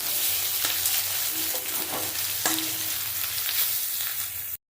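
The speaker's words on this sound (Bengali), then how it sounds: "কাঁচা লঙ্কা দিয়ে দেবো রেড করা আদা দিয়ে দেবো দিয়ে মশলাটা ভালো করে কষিয়ে নেব" Spiced masala with green chili and ginger sizzles and fries steadily in a pan for Bengali ol stalk curry, a continuous crackling hiss with a few brief stirring scrapes, close and fairly loud.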